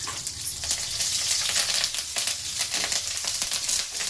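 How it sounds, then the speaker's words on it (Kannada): Green chillies fry in a pan over the flame, a dense, bright, close sizzle with rapid crackles and small pops throughout, heard alone without talk. "ಮೆಣಸಿನಕಾಯಿ ಫ್ರೈ ಮಾಡ್ತಿದ್ದೀನಿ"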